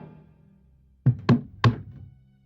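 Three sharp knocks on a door in quick succession, close and distinct, following a faint low background hum, in a Hindi horror story scene with a locked door.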